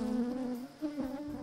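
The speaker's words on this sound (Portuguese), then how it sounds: "Só neste enxame existem aproximadamente 25 mil abelhas" Buzzing of a honeybee swarm of about 25,000 bees at close range, a steady droning hum that wavers slightly in pitch, with no voices.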